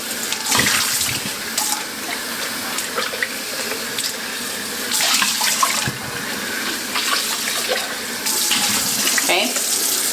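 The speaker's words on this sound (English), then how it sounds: "I'm gonna take it over to the sink and fill it up with some water." Water runs steadily from a kitchen sink tap into a blender pitcher, a continuous splashing hiss that shifts in tone as the pitcher fills, with a few clinks and handling knocks along the way.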